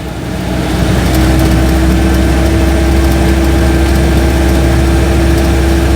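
An Invacar's 493cc Steyr-Puch air-cooled flat-twin engine drones loudly and steadily close up while accelerating, with a rough, buzzy mechanical tone throughout.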